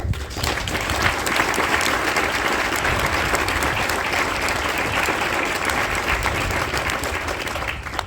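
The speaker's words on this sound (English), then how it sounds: "So again, another round of applause, please." An audience at a Marine battalion change of command ceremony gives a sustained round of applause, dense, even clapping from many hands holding steady for about eight seconds before easing slightly at the end.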